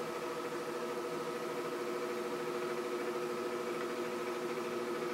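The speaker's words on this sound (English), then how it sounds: "If you hear noises in the background, that's my washing machine." A washing machine runs in the background as a faint, steady, continuous hum with no clear changes and no talk.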